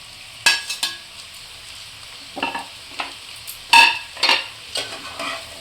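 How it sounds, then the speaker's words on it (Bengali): Bitter gourd, eggplant and fried lentil bori being stir-fried for shukto in a pan, with bursts of sizzling and scraping clinks of a spatula in an irregular rhythm, close and with no talk. "এবার এগুলো ভালো করে ভেজে নেবে নাকি?"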